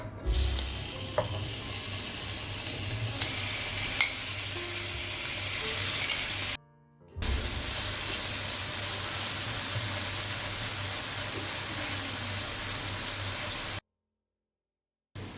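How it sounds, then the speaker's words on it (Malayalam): Chicken pieces frying in hot oil give off a steady, loud sizzle with crackling spatters, briefly cut out twice, with no talking over it. "ചിക്കന് ഒന്ന് ഫ്രൈ ചെയ്തെടുക്കാം."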